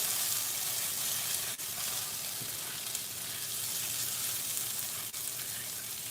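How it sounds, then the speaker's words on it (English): Corn with parsley flakes sautés in a hot pan, giving a steady sizzling and frying hiss throughout, with a couple of faint utensil scrapes and no talking. "Kind of saute this around a little."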